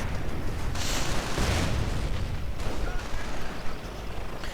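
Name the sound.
grenade explosion on Volksgrenadiers in a strategy video game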